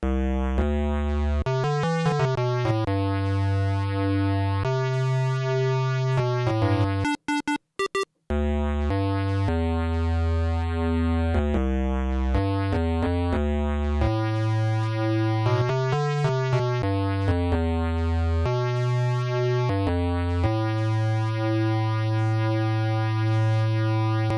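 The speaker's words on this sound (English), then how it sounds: "So you can hear that now it's tuned one octave lower." A low, synthetic-sounding melodic sample, transposed one octave down, plays steadily for a long stretch, with short choppy stutters partway through and no speech.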